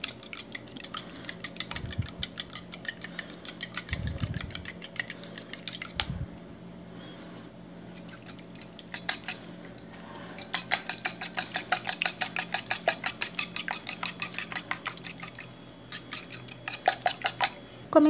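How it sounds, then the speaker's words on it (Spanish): An egg is lightly beaten in a small plate with a utensil for potato, tuna and cheese croquettes, giving quick rhythmic clicking taps against the plate, close and clear, in bursts after a few louder knocks. "en este platito voy a colocar este huevo, que lo voy a batir ligeramente"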